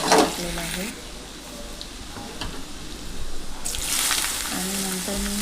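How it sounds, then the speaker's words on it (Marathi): Mustard seeds, asafoetida and crushed garlic sizzling in hot oil for bottle gourd sabzi, a steady close hiss and crackle that runs throughout while someone talks at the start and end. "आता तेल गरम झालेलं आहे, मी राई टाकलेली आहे तेलामध्ये, हिंग थोडंसं आणि हा टेचलेला लसूण आता तो आपण टाकलेला आहे"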